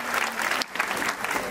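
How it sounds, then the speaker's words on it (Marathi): A hall audience at a women's bhondla celebration applauds for the conch-shell players, steady dense clapping from a crowd heard at moderate distance, with a brief dip partway through. "एकदा त्या शंखवादक भगिनींसाठी सर्वांनी जोरदार टाळ्या वाजवायच्या आहेत"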